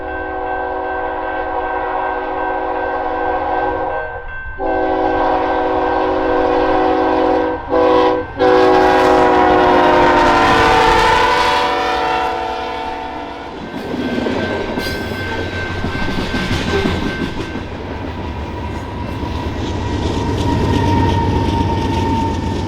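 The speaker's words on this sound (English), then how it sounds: "after this train had passed" A train in snowy Dallas-Fort Worth, Texas, sounds its horn with sustained blasts, then rumbles past loudly with clattering wheels and a faint squeal, the roar fading as it moves away.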